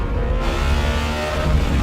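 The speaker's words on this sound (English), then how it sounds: "the emotion and power delivery and sound of a naturally aspirated 16-cylinder engine" A powerful naturally aspirated 16-cylinder Bugatti Tourbillon engine roars steadily at high revs, loud and close, with a dense low growl throughout.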